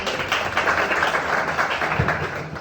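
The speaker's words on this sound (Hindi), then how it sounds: "एक बार मैं चाहता हूं जोरदार तालियां" An audience at a college gathering applauding, with a dense, steady wash of clapping from many hands that stays fairly loud for the whole stretch.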